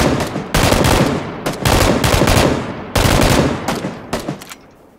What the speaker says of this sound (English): Should I take shots?